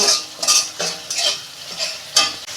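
A spatula stirring vegetables and egg curry masala with Kashmiri chili powder as it is sautéed in a pan: loud, close, rhythmic scraping strokes over a soft sizzle, with no talk.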